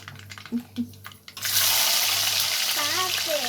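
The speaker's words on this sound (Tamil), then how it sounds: "கடுகு பொரியுது" Mustard seeds spluttering in hot oil while cooking thakkali kuzhambu, a sudden loud crackling hiss that starts partway in and continues steadily, with people talking before and over it.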